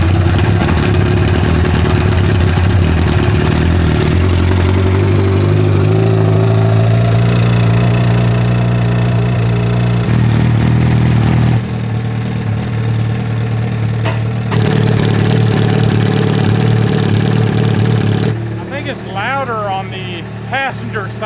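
A Honda CBR1000RR superbike engine swapped into a Honda N600 micro car idles loudly and close, its rumble shifting pitch and level over about twenty seconds while people talk nearby.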